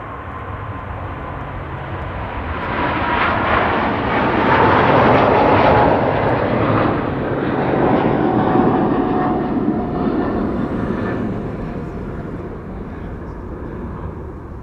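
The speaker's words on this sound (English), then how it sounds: "Next airplane to take off is KLM flight 623. There it is, going to Atlanta, Georgia. It is a 777-200" A 21-year-old KLM Boeing 777-200 takes off from Amsterdam Schiphol, its jet engines a loud, broad roar that swells toward the middle and holds steady for the whole stretch, with no voices over it.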